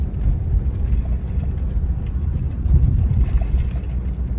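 A car climbs a paved road at Center Hill in Mt. Blue State Park, Maine. Its engine hums as a low, steady rumble close by, mixed with wind buffeting and road noise.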